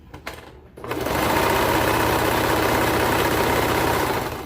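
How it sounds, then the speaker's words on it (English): A sewing machine runs steadily, stitching a seam on a handmade slouchy cardigan; after a few faint handling knocks the motor starts and whirs loudly and continuously, close up, with no talking. "All right, so I'm gonna start right here."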